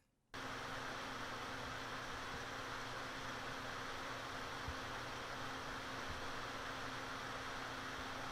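A Scythe Shuriken 3 CPU cooler fan switches on almost at once and runs steadily, a constant broadband rush of air with a faint underlying hum and no other sounds.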